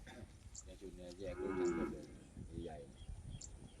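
Cattle on a farm in Lopburi, including pregnant cows, let out one drawn-out moo at moderate distance, with quieter lowing and faint farmyard noise around it.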